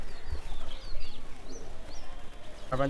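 A pigeon, its wings being tied with thread, gives soft coos amid faint background chirps, with a brief sharper sound at the end.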